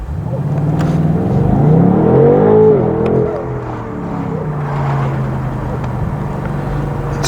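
A BMW launches from a standstill, its engine note climbing and rising in pitch over the first few seconds, then easing back to a steady, lower drone as the car settles into cruising.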